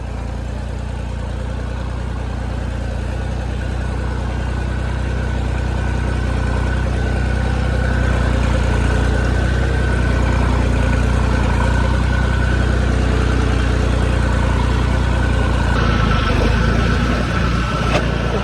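A Massey 9500 tractor engine labours through mud, a continuous close low rumble that swells slightly louder toward the end, with no talking.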